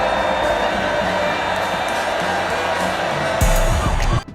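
Huge stadium crowd at the Super Bowl halftime show roaring and chanting in unison, a dense sustained wall of voices filling the space before a sharp burst near the end.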